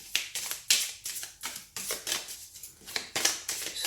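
Shuffling a deck of Golden Universal Tarot cards, with a run of crisp, close papery slaps and riffles in an uneven rhythm, each sharp burst quickly fading.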